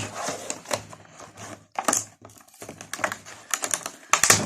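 Crisp snipping and crinkling as scissors cut open the box packaging of a Power Attack He-Man action figure, in uneven bursts, close by, with short pauses between cuts and no talking.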